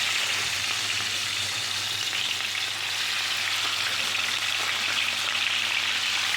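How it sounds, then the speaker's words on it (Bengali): Pieces of rohu fish frying in oil in a wok give off a dense, steady sizzle that stays loud and even throughout, with no voices. "মাছটাকে ফ্রাই করে নিই।"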